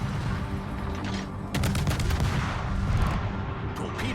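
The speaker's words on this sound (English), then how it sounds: "We've got some shells in now." Naval shell fire in the World of Warships video game: a dense, continuous barrage of booming gunfire with rapid cracking impacts, loudest from midway on, under a faint low rumble.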